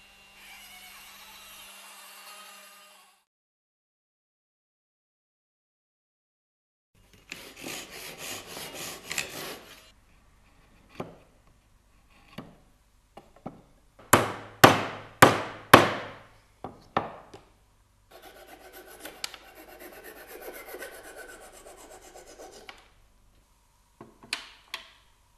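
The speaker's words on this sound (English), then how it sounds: "Any cutter placed exactly over the opening will make dowels any size and of any wood" Wooden dowels being made on a WoodRat machine with a dowel pop and cutter: bursts of raspy rubbing and grinding, with a cluster of sharper, louder scraping strokes near the middle and quieter passes around them.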